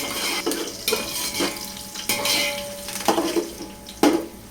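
Green chilies fry in hot oil until golden, a continuous sizzle broken by regular scraping strokes of a spoon against the pan, close and moderately loud, without speech.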